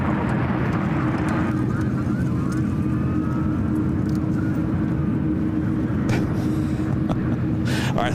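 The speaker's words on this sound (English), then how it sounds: "787-9 Dreamliner" A Boeing 787-9 Dreamliner airliner at SFO makes a steady, loud low jet roar that holds throughout, with faint higher whines and brief noise bursts near the end.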